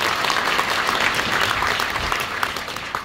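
An audience at a Seongnam city research forum gives steady, moderately loud applause to welcome a speaker, a continuous dense patter of many hands throughout.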